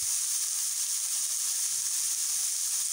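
Chopped onion sizzles in hot olive or table oil in a pan, a steady dense hiss with a faint crackle running evenly throughout, with no talk over it.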